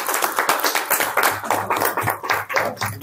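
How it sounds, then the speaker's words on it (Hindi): A small group claps at a gathering after thanks are given, uneven bursts of close hand claps with a low hum and scattered movement behind them. "तालियां।"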